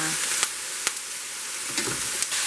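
Italian sausage and bell peppers sizzle loudly in a hot pan, a bright continuous hiss close by, punctuated by four or five sharp clacks as a utensil stirs them, with no talk.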